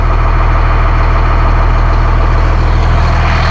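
A 2006 Blue Bird All American 78-passenger school bus idles with its Caterpillar C7 7.2-liter turbo diesel, a loud, steady, low rumble with an even throb and no other sounds.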